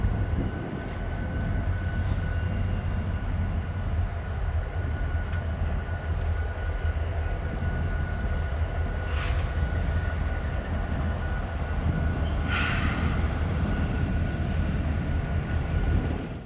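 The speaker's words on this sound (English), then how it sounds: "I noticed the train actually reversing on the other leg of the Y through the trees." Union Pacific Centennial 6936 locomotive and train reversing slowly on the far leg of a rail wye behind trees, a steady distant low rumble with faint wheel squeal and brief higher screeches midway through.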